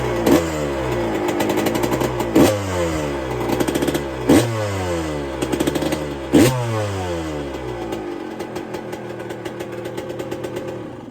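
Restored 1999 Yamaha YZ two-stroke motorcycle, fitted with a 144 kit, fires up and revs, sharp rising and falling blips of a crackly engine over a ringing idle, close by and loud, no talking.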